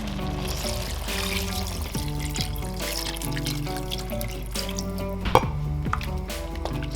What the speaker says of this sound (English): Add around 4 cups of water or just above the innard.